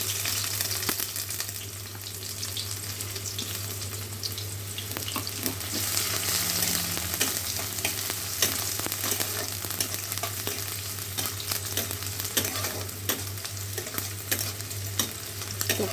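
Onions frying in hot oil in a pan while a pea curry is being cooked, a steady, loud sizzle that keeps going throughout, with occasional stirring scrapes and no talking.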